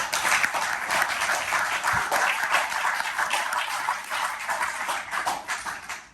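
A crowd applauds King Downing at a film festival panel discussion, steady clapping from many hands, loud and close, tapering slightly at the end.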